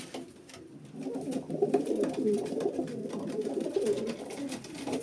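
Domestic pigeons coo steadily in a loft, a dense overlapping chorus of low throaty calls with a few sharper wingbeats or clicks, fairly close and without speech.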